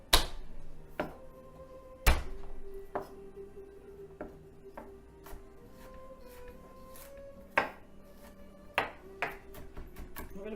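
Garlic cloves chopped with a knife on a board, about ten sharp, irregularly spaced blade strikes with brief ringing, fairly close, with no talking.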